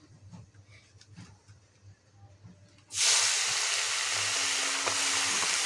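Fish dropped into hot oil with black cumin (kalonji) bursts into a loud, steady sizzle about halfway through, after quiet kitchen background noise with low hum, and the sizzle holds on without letting up.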